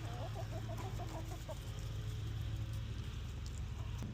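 Farmyard hens cluck in a short, rapid series of calls near a coop, then fade beneath a steady low machine-like hum that continues to the end.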